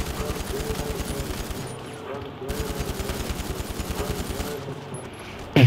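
The AP pistol in Grand Theft Auto V fires in rapid automatic bursts, dense steady shots in two long strings separated by a brief gap, loud and close.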